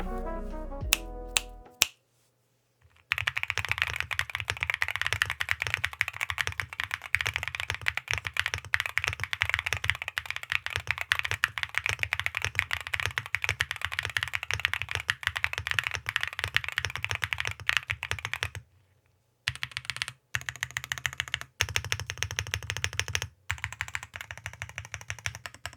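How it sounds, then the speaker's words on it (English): Rapid, steady typing on a Luminkeys 65 keyboard with Gateron Sylva long-pole linear switches, a dense stream of crisp clacky keystrokes broken by a few brief pauses, close-miked with no speech. "Let's take a listen to the board in its stock pre-built form with the gateron Sylva long pole linears"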